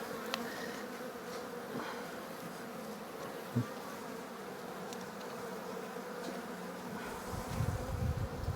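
Honey bees buzz steadily around an opened beehive during a swarm and split check, a dense continuous hum close by with no talk and a brief knock partway through.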